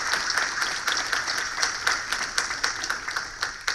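A church congregation at a Pentecost Mass applauds together, a dense run of rhythmic clapping from many hands in the room, steady and moderately loud throughout.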